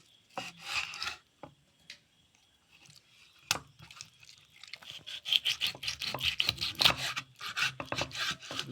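A knife cutting raw lulu fish, with repeated scraping, rasping strokes and chopping taps, sparse at first and then a dense, steady run of close rubbing cuts.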